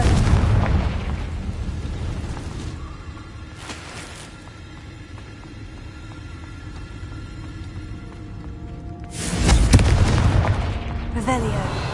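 Confringo fire spell bursts from the game Hogwarts Legacy: booming explosive blasts at the start and again near the end, with a quieter rumbling stretch between and the player's voice calling out spell names.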